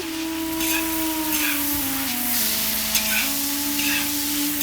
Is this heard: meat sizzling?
yes